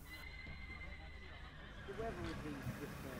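Piebald cobs whinny at a gypsy horse fair in Stow just after being unloaded from a horse box, a few short neighs rising over steady crowd murmur and outdoor bustle.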